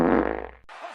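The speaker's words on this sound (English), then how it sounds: "Time to fart." Fart sound effect, a single loud, buzzy blast lasting about half a second, then a brief softer tail, with no talk.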